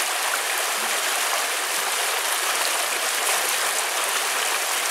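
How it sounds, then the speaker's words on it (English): A forest stream rushes past in a steady, broad watery hiss, loud and close, continuing without pause and with no voices. "Listen to the water roll by."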